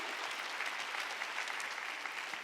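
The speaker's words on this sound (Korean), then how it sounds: "박수 치며 하나님께 영광을." A church congregation at a Sunday worship service applauds steadily, with many hands clapping at a moderate distance in a continuous wash of sound and no break.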